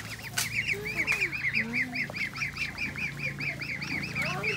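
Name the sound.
ducks quacking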